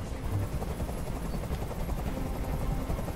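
Continuous low thudding rotor noise of a helicopter in the video game Detroit: Become Human, steady and fairly loud with no talking.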